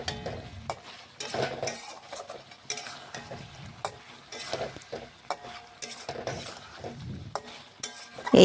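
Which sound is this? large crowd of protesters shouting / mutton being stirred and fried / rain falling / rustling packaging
mutton being stirred and fried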